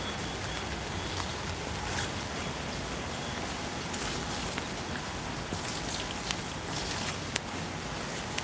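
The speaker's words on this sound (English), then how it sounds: "Here there's a bit of rain." Light rain patters steadily on a surface, a dense soft hiss with scattered sharper drops, no voices.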